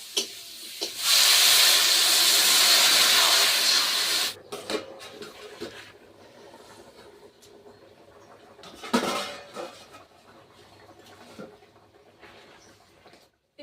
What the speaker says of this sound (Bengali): তরকারিটা ভালোভাবে ফুটছে